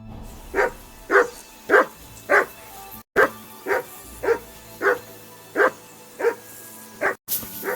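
Repeated dog barks in the medieval game Kingdom Come: Deliverance II, about ten evenly spaced loud yips over roughly eight seconds, close and clear, with no talking.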